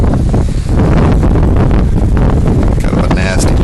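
Tropical Storm Andrea blows across Hatteras Island, a loud, constant roar of wind buffeting the microphone and rushing through trees, steady and unbroken with no speech over it.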